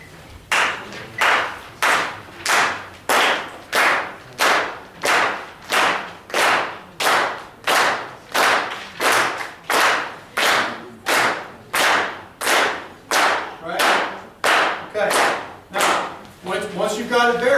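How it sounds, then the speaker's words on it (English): Steady hand claps locked to a 90 bpm metronome at a drum clinic, about twenty sharp even claps spaced evenly, loud and close, with a brief jumble of sound at the very end. "Clap with it."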